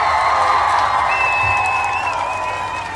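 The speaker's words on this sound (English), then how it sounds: "We want to give all of our Coogee babies a round of applause." A crowd gives a round of applause at a gathering, with loud continuous clapping and cheering that fades slightly over a few seconds, with no talk over it.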